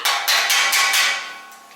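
Hammer blows on car body metal in a workshop, about five sharp, bright metallic strikes in quick, steady succession, close and loud, with ringing decay after the last hit and no talk.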